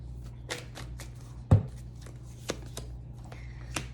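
Tarot cards are shuffled and riffled in a quiet room, a handful of brief crisp flicks and slaps spaced irregularly, with one louder tap standing out.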